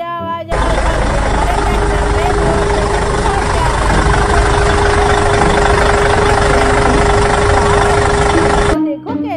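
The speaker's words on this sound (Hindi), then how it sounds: "देखो कैसे स्कूटर चला रहे हैं, वाव।" A cartoon scooter's engine runs in a steady, buzzing drone with a constant whine, loud and unbroken for most of the stretch, opening and closing with brief bits of cartoon music or effects.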